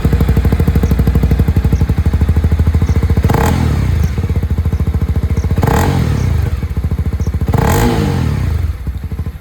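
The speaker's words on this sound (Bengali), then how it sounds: "এটা আপনারা শুনে নিয়েছেন এক্সস্ট সাউন্ড অফ CB300R" Honda CB300R motorcycle exhaust, a steady loud idle with three sharp throttle blips rising and falling at regular intervals, close to the pipe.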